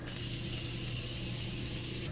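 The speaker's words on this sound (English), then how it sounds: "set my face with the Morphe Continuous Setting Spray just one more time" Morphe Continuous Setting Spray misted onto a face in one steady, close hiss lasting about two seconds, alone with no talk.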